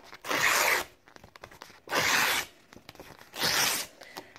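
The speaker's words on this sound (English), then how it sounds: "rip it into strips" Junk mail paper ripped into strips by hand: three separate tearing bursts, each about half a second long, with short pauses between them, close and fairly loud with no other sound.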